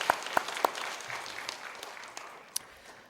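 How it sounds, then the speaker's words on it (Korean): Church congregation applauding during a Sunday service, a dense round of clapping with a few sharp, close individual claps standing out at the start, gradually thinning as it goes on. "우리 크게 박수 드리겠습니다."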